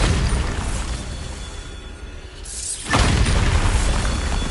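A Bombarda blasting spell goes off in Hogwarts Legacy: a loud, sudden broadband explosion bursts in near the three-second mark over an ongoing noisy game backdrop, then rumbles on at full strength.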